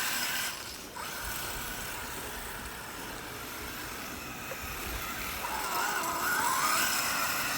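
A brushless-converted Losi 5T RC car drives with a steady, faint whine and mechanical rattle that swells slightly toward the end, heard from a distance outdoors.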